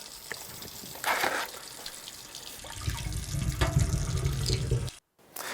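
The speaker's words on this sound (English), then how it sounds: "We're just going to wash it down real quick" Water gushes from a hose or tap while teak wood is washed down, running in bursts with a steadier heavier flow near the end, close and moderately loud.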